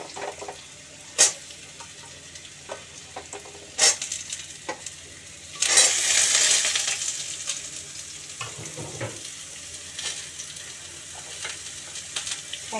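Potatoes frying in a pan for a ridge gourd curry, a steady soft sizzle broken by a few sharp spatula knocks and a louder burst of hissing as they are stirred, close and fairly quiet, without speech.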